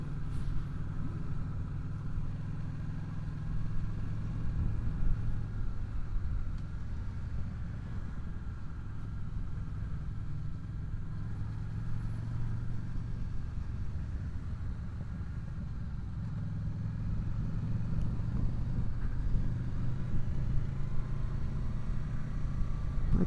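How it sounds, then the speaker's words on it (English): Honda VFR800 motorcycle exhaust burbling steadily through a low, continuous rumble, recorded while riding near a village, with constant engine drone and road noise for the whole stretch and no talk. "I'm getting lots of burbling sounds from the exhaust"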